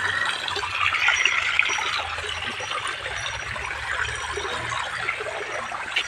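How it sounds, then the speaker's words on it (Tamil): Steady rushing of rain-fed water flowing through a farm field, continuous and fairly close, with a broad hiss and faint low rumble throughout, no voices. "தண்ணி மழைக்கு வந்துட்டு இருக்குது அவ்வளோ தண்ணி பார்த்தியா"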